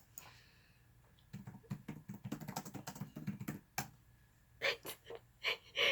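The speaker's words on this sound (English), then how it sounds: "Typing him a message so he doesn't call me in this video" Someone types a message on a computer keyboard: soft, rapid runs of keystrokes with short pauses, quiet and close, with a few louder clacks and breaths toward the end.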